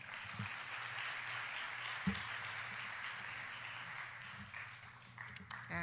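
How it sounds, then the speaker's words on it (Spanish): Faint, steady applause from an audience at a women's ministry church gathering welcomes a speaker to the front, a soft continuous patter lasting several seconds. "Vamos a recibirla con un aplauso, por favor."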